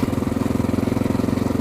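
A motorcycle engine running loud and close, its rapid, even pulsing throb steady throughout with no voices.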